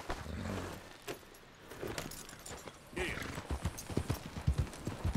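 Horse hooves clip-clop on a dirt street in Red Dead Redemption 2, an uneven run of soft thuds with tack jingling, mixed with faint game ambience and a voice speaking.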